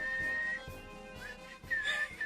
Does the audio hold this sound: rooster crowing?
no